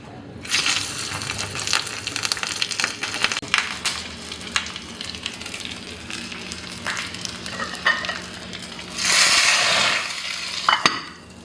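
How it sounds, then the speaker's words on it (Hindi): Green and red chillies with a little cumin sizzle and crackle in hot ghee for a dal tempering in a village kitchen in Bihar during Chhath Puja, a steady close frying hiss with stirring scrapes and a louder burst of sizzling near the end. "एक कच्ची हम गरम कर रहे हैं दाल में तड़का लगाने के लिए"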